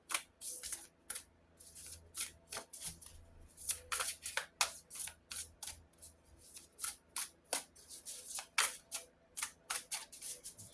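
Tarot cards being shuffled, a quick series of crisp riffling flicks and slaps in irregular bursts, close but fairly quiet, with no talk.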